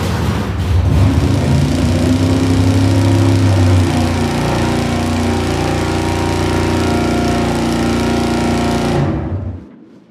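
An engine runs on a test dyno to heat its coolant, a loud, close, steady mechanical drone with a slight change in pitch partway through, then it cuts off abruptly near the end.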